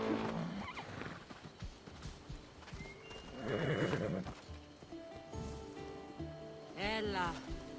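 A horse neighs loudly twice in Assassin's Creed Odyssey, with hooves clopping and the whinnies rising above a clattering, busy game soundscape; characters speak at points through it.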